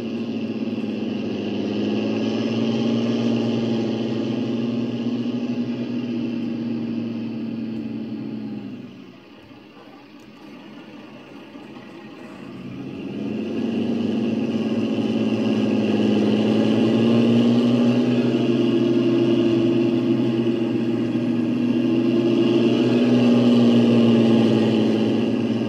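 A Fiatagri 180 tractor engine in Farming Simulator 19 drones steadily and loudly while driving, dips briefly to a quieter idle mid-way, then revs back up with a rising tone.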